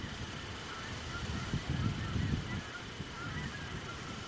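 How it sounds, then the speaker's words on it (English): A flock of about 70 geese honks from a distance, faint overlapping calls rising briefly over steady outdoor background noise. "The number in this flock is about 70 geese by my count."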